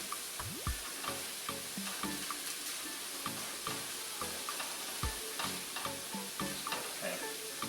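Fresh kielbasa sausage heats through in a pan with a soft, continuous sizzle. Repeated scraping and stirring clatters run through it, and no one talks.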